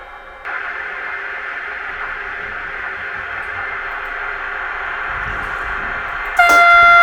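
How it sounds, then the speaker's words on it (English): A model freight container train pulled by a Vectron locomotive rumbles steadily along the track with a constant whirring drone, then a sharp high horn-like tone sounds near the end. "my model railroad as seen from the cabin of a Vectron locomotive pulling a freight container train"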